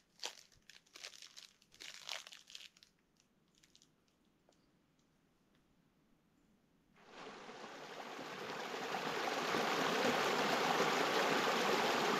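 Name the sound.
flowing stream in wilderness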